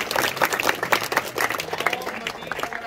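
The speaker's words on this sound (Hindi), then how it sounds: "उसके लिए तालियां बजाएं।" Crowd of schoolchildren clapping at a school magic show, a lively burst of applause with uneven, scattered claps that keeps going for the whole stretch.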